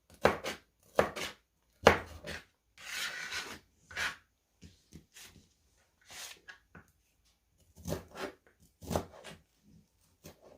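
Zucchini sliced with a knife on a cutting board, sharp chopping strokes landing in irregular clusters, close and crisp, with quiet gaps between runs of cuts.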